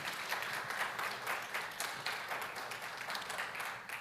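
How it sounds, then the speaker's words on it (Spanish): Congregation applauding inside a church during a Sunday morning service, a fairly quiet but continuous wash of many hands clapping, even and sustained throughout. "Den un aplauso a nuestro Señor Jesús esta mañana,"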